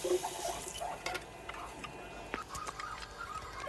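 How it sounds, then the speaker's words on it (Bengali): Water poured into a cooking pot of lightly fried dal with salt and turmeric, a brief splashing, running pour with small drips and clinks, close by and without speech. "এখন দিয়ে দিব পরিমাণ মতন পানি।"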